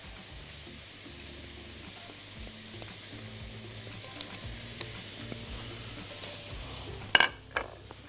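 Shrimp hit a hot pan already holding onions for a shrimp biryani, giving a steady, close frying sizzle with stirring and a few sharp metallic clinks near the end; no one speaks.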